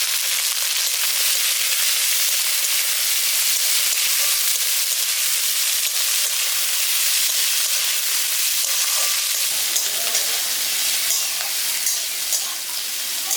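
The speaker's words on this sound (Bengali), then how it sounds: "একটুখানি সবজিগুলো দিয়ে আমি হালকা একটু লালচে করে ভেজে নিচ্ছি।" Chopped carrot and beans fry in a pan for dalia khichdi, giving an even, loud, unbroken hiss that shifts slightly in texture toward the end, as if the vegetables are moved.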